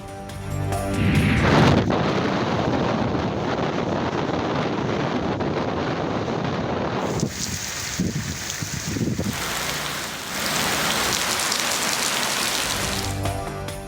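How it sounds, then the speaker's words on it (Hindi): Heavy rain in Punjab, a dense steady hiss of rainfall with gusty wind buffeting the microphone, loud and continuous with a few swells and dips. "पंजाब में तेज बारिशें, हाफिजाबाद और गिरदोनवा में सड़कें तालाब बन गईं"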